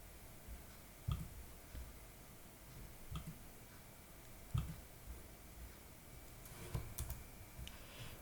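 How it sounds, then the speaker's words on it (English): Faint, sharp computer mouse clicks come singly and a few seconds apart over a low, steady room hum while someone works in image editing software. "right mouse click over here,"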